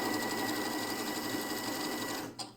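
A Janome Skyline S3 sewing machine runs steadily while stitching a heart pattern, a close, continuous whirring hum that stops near the end with a brief locking-stitch clatter.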